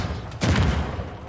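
Dynamite explodes in Uncharted 4, a single heavy muffled boom that swells suddenly and rumbles down over about a second.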